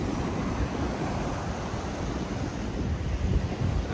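Black Sea surf and wind on an overcast, mild February day at Sochi, a steady close roar of breaking waves mixed with gusty wind buffeting the microphone, continuous throughout with no talk.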